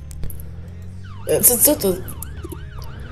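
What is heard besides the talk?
police siren in the video game Roblox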